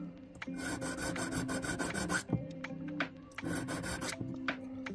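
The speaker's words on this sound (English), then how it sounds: "Essentially just filing a little V notch" A metal file rasps a small V notch into a jewelry ring during resizing. The close, rhythmic strokes come in two long runs, separated by a short pause and a few isolated scrapes.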